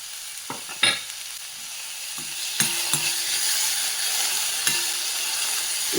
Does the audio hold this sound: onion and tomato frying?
yes